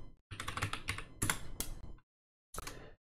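Rapid typing on a computer keyboard, close and clear, a burst of quick clicks, a short pause, then a few more keystrokes.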